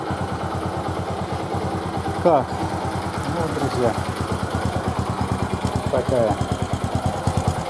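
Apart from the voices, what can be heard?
Bajaj Boxer motorcycle engine idling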